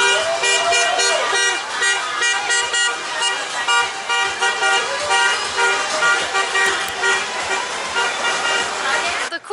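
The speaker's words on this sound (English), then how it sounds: "So we have a car here painted red, white, and green honking after the game." Car horns honk repeatedly in the street after a football game in Mexico, near and loud, with other traffic and voices mixed in, from a car painted red, white, and green.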